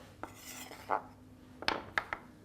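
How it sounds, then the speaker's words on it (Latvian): A knife slices a bell pepper into large chunks on a cutting board for oven-roasted vegetables, giving a few sharp knocks and crisp taps spaced irregularly, close and fairly quiet with no talking. "Sagriežam papriku. Puslīdz tādos lielos gabalos."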